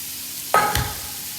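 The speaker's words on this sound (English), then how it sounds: "Sizzle." A sudden loud hiss as crushed onions and garlic hit a hot pan, then a quick scrape, settling into a quiet sizzle.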